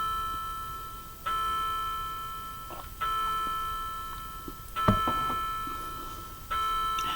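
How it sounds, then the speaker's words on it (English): An indoor clock chimes in a slow series of ringing tones, each strike resonant and decaying before the next, four strokes spaced over several seconds, with no talking. "Might as well let that clock chime."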